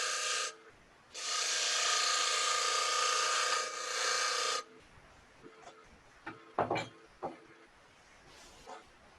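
A detail gouge cutting wood on a lathe, heard as a loud sustained rasping hiss during a long cut, followed by quieter scattered scrapes and short taps.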